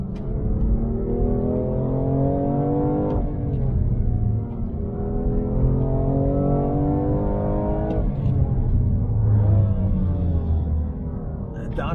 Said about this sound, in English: Downshift was a bit aggressive there.